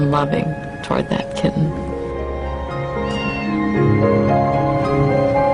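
A tailless kitten meows several times, up close, over a steady hum and faint background sounds.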